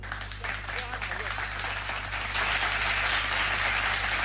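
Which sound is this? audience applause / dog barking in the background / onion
audience applause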